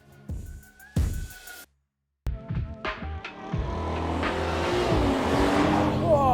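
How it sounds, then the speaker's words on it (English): The V8 of a 2021 BMW M8 Competition Gran Coupé barks through a couple of sharp revs, falls silent, then builds into a long, loud, rising acceleration, with a brief voice near the start. "Listen to that V8"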